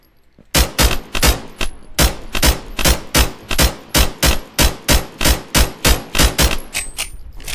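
Rapid rounds of gunfire from the video game From the Fog ring out in a steady, evenly spaced string of loud, sharp shots, about two per second, continuing for several seconds with no talk.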